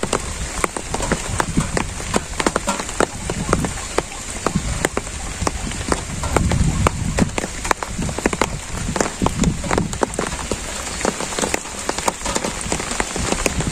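Monsoon rain falls steadily in a village, a loud, close, continuous patter with frequent sharp drips and splashes on nearby surfaces, no one talking.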